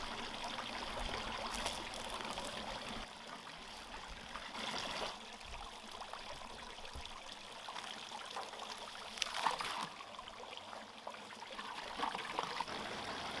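Water from a garden fountain trickles and splashes continuously, a steady close wash of running water with slight surges, no voices over it.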